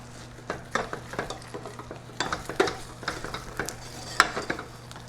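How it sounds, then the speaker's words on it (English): Miso nut brittle with mixed nuts is stirred in a pan over a flame, giving quiet, irregular scrapes and clicks of the spoon against the pan alongside a soft sizzle, with no voices. "Just keep stirring."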